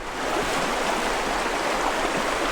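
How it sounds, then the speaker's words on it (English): A cold backpacking stream at a crossing in Kentucky's Red River Gorge in April rushes and gurgles nearby, a continuous, fairly loud wash of flowing water with no voices. "Stream crossing number 2."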